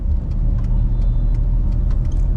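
A car turning on a highway between Chennai and Pondicherry, heard as a low steady rumble of engine and road noise close by, with faint higher swishes of passing traffic and no talk.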